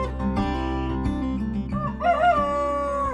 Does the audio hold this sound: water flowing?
no